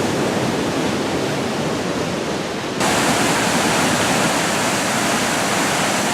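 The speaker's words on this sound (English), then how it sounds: "take a look at the falls from down below" Steady roar of a river waterfall viewed from below the falls, a loud continuous broadband rush that briefly dips and then swells fuller and brighter partway through, with no voices.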